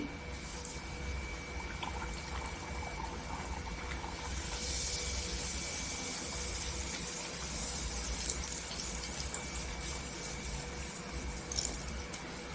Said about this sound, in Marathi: इथे पुरी फ्राय करायला तेल ठेवलेलं आहे कढईमध्ये